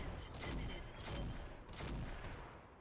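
Mech weapons firing in the Roguetech video game, a quiet volley of several rapid shots and impacts rolling over about three seconds, muffled and distant-sounding, with no talking.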